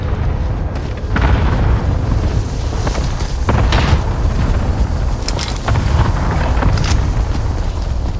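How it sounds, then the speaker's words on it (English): Cluster strike explosions in the video game Call of Duty: Modern Warfare: a dense, roaring wall of repeated booms with sharper crackling blasts every second or so, loud and sustained throughout with no pause. "Allied cluster strike arriving."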